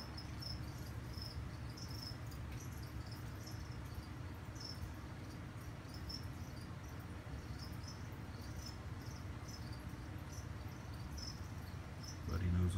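Cricket chirping near a cane toad at night, a steady rhythmic trill repeating throughout over a low background hum, moderately faint, with a louder thump near the end.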